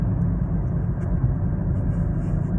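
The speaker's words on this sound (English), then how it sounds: "I'm gonna decelerate now." A Toyota Corolla slows while driving, giving a steady, close, low engine and road rumble that holds evenly throughout with no talking.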